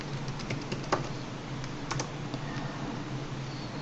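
A password is typed on a computer keyboard to log into a domain admin account, with quick irregular key clicks close by over a low steady hum.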